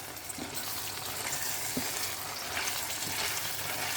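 A yam sauce with fish and ugba sizzles steadily in a pot while being stirred, a continuous close frying hiss broken by a few soft knocks of the spoon, no speech.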